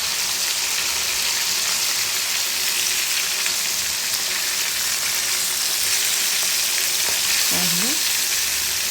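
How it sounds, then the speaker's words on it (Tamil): Fish pieces for a festive fish biryani fry steadily in a pan, a dense, even sizzle that holds loud and close throughout, with a brief faint scrape near the end. "இப்போ பாருங்கள் மீன் நல்லா வெந்துக்கிட்டு இருக்கு"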